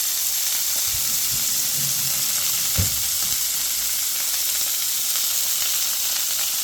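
Salmon pan-fries in a hot pan, giving a steady bright sizzle and hiss throughout with a few soft knocks and one sharp clatter of utensil or pan near the start.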